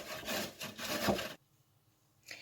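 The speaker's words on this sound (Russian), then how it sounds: "Очищенные кабачки натираем на крупной терке." Peeled zucchini rubbed against a coarse grater, a quick run of rasping strokes for over a second, then near silence before a brief scrape resumes at the end.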